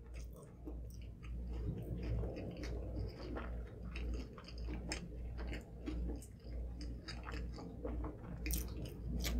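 Five Guys double cheeseburgers being chewed during a five-burger eating challenge: steady, close mouth sounds with soft squishes and occasional crunchy bites, continuous with no talking.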